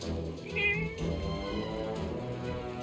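Cat meowing in the video game Forspoken, a clear, close meow early on over a busy background of game music and ambience, with quieter cat vocal sounds following.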